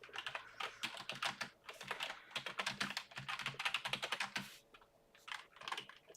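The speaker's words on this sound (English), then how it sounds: "Me typing too fast." Rapid typing on a computer keyboard during a live gold trading session, a dense run of close, crisp key clicks with short pauses, alone without any talk.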